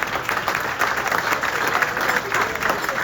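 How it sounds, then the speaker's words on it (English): Dinner guests at an awards banquet for the Lt. Det. Joseph Petrosino Association at Russo's in Howard Beach applaud an honoree, a dense, steady wash of clapping from a roomful of people that fills the whole stretch. "Give him a round of applause, please."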